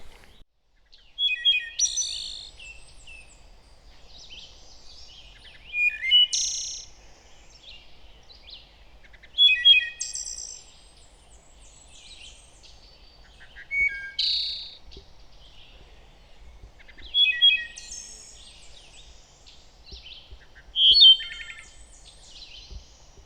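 A wood thrush on the Appalachian Trail sings clear, flute-like phrases repeated about every four seconds, each ending in a buzzy trill, alone against a quiet woodland background.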